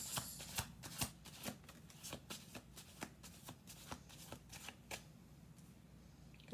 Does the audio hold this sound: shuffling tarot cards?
yes